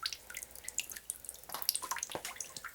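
Rainwater drips through a window into a flooded basement, falling as scattered, irregular close drips over a quiet background.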